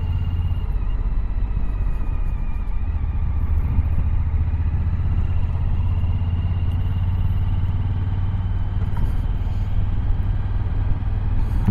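A Suzuki V-Strom 1050 SE motorcycle rides through town in fourth gear, its engine straining at low revs with a steady, loud, low rumble and faint whine throughout. No voices are heard.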